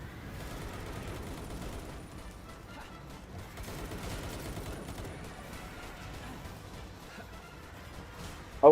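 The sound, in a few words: gunfire in a video game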